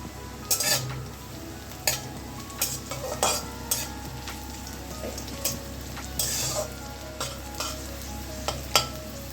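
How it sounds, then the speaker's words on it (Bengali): Potato, pumpkin and eggplant pieces stir-frying in a wok for a Bengali pumpkin chochori with pui shak, with steady low sizzling and repeated scraping, clinking stirs of a spatula coming up close at an uneven rhythm. "কেটে রাখা আলু, কুমড়ো এবং বেগুন কড়াইতে দিয়ে ভালো করে নাড়াচাড়া করে ভেজে নিয়েছি"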